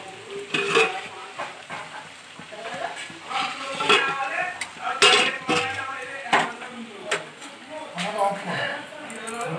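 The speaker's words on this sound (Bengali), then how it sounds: "দুপুরের লাঞ্চে প্রিপারেশন শুরু হয়ে গেছে, ফিশ ফ্রাই ভাজা চলছে" Fish fry pieces fried and stirred in a home kitchen pan while lunch is prepared: steady sizzling with repeated metal scrapes and clinks of a utensil against the pan, under ongoing talk nearby.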